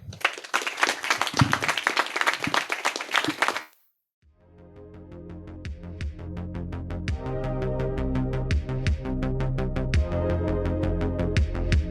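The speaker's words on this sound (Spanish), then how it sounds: "un aplauso muy grande" Loud, dense applause from a crowd for a few seconds, then it stops abruptly and steady music fades in.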